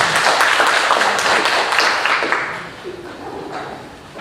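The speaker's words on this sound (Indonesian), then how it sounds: "Mari kita beri aplaus dulu." An indoor audience at a formal regional government meeting in Manokwari bursts into applause. The dense clapping is loud and near, holding steady before tapering off over a few seconds.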